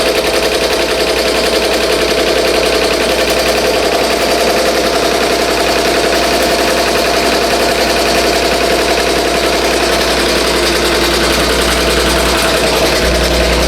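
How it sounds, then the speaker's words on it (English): A BAI Mirror 1501 embroidery machine stitching a sketch design onto a T-shirt, producing a loud, continuous rapid mechanical chatter with a steady hum that runs unbroken throughout. "And I'll just let it continue stitching."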